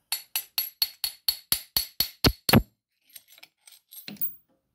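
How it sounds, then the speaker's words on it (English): A hammer knocks a stuck arbor out of a lathe tailstock, striking a long drift in about ten sharp, evenly spaced metallic blows that build in force. A few lighter clinks and rattles follow as the part comes free. "take a hammer, and persuade it out"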